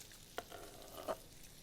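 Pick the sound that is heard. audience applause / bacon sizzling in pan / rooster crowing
bacon sizzling in pan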